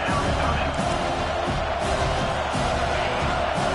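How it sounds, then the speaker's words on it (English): A stadium crowd at a college football game roars steadily behind the defense on third down, a dense, loud wall of cheering and shouting that stays constant throughout, with an announcer's voice mixed in. "Decibels rising as the crowd gets behind this defense on 3rd down"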